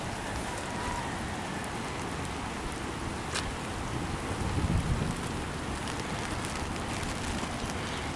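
Heavy rain pours in a steady, dense hiss during Hurricane Sandy, with gusty wind and a brief sharp crack partway through. No one speaks.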